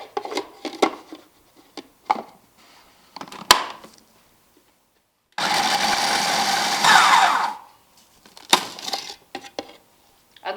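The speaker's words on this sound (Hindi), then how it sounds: "हम इसे अच्छे से क्रश कर देंगे।" Oreo biscuits being crushed fine, likely in a blender: a couple of seconds of loud steady whirring grind, framed by intermittent knocks, taps and handling clatter before and after.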